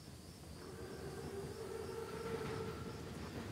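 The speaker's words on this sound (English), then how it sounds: "Train's right on time." An armored train passes in Call of Duty WWII, a steady low rumble with faint sustained tonal whines, heard at a distance, fairly quiet and continuous, with no voices.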